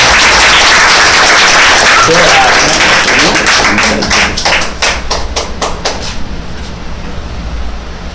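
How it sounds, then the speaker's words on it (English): At a monthly rewards and recognition ceremony, an audience claps loudly and continuously, then the applause breaks into distinct, slower individual claps before fading into a low room hum. "One more time, big round of applause."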